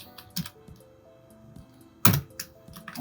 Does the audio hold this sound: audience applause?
no